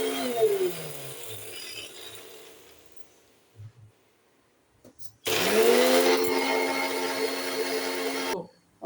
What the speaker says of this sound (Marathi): आता हे आपण मगाशी भाजलेले हे बारीक करून घेऊया